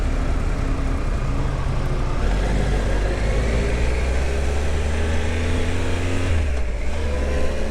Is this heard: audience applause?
no